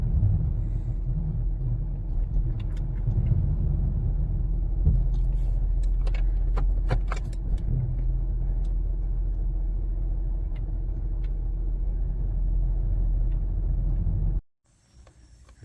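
A 2010 Ford Taurus, under rack and pinion replacement, is backed out and pulled back in at home, giving a steady close low engine rumble with a few light clinks before it cuts off abruptly near the end.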